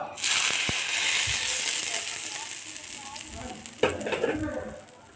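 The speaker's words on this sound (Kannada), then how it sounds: "ಸಿಡಿಯುತ್ತೆ ಕರಿಬೇವು ಸೊಪ್ಪು ಹಾಕಿ" Curry leaves splutter loudly in hot oil for a peanut chutney tempering, a bright crackling hiss with sharp pops that gradually fades, then a brief clatter near the end.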